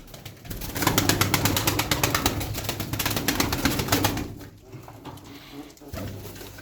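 Tumbler pigeons from a single coop, leg-banded males, cooing and stirring in a loud, busy loft, with wing flutters and a continuous low murmur of birds; activity thins toward the end.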